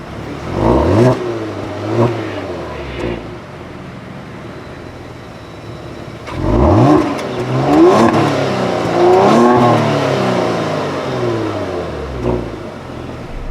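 A 2022 Kia Stinger GT's engine turns over via remote start and fires up, then idles with a few throaty revs rising and falling, close by with no talking.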